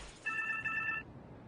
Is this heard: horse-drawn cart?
no